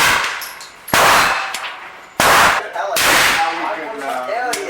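Three loud shots firing 260-grain traditional-lube cast wadcutter bullets over 6.3 grains of 231 powder at a range target, spaced about a second apart, each with a long echoing decay.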